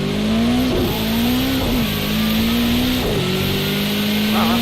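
Ferrari and McLaren race car engines in a racing video game, a loud steady high-pitched whine with pitch rising and dropping through several gear shifts, continuous and close.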